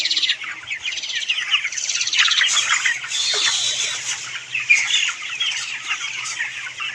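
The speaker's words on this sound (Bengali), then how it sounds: "আর দেখুন মুরগিগুলো" A flock of chickens on a poultry farm clucks and chirps in a constant, busy chatter with no pauses, close by and fairly loud.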